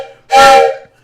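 A steam-style train whistle blast sounds alone, loud and close, rising sharply, holding about half a second, then fading.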